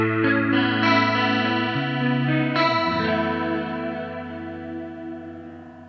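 An electric guitar played through a Black Country Custom Spiral Array chorus pedal from Laney, depth turned fully up, rings out in sustained chords with a wide, shimmering, warbling chorus sweep, loud and close with no talking.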